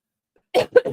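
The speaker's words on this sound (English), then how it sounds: "A cough every so often." A person gives a couple of quick, close coughs that break a brief silence.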